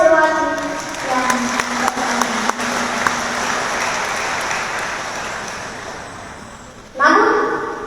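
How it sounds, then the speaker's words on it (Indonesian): Audience applause at a university graduation ceremony in Kupang, honoring the graduates: steady broad clapping from a large crowd filling most of the clip, tapering slightly, then a fresh louder swell near the end. "Mari kita berikan aplaus bagi wisudawati yang"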